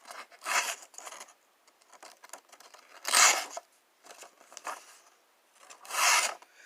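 A Kershaw Shuffle II knife slices through paper in several separate rasping strokes, each a short scratchy burst with quiet gaps between, close and clear with no talking.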